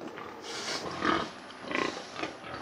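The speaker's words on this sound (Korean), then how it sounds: "이 흑돼지들은 우리나라 토종 돼지입니다." Native Korean black pigs on a farm, heard as a few soft grunts and snorts at close range over a quiet, steady barn background, with no talking.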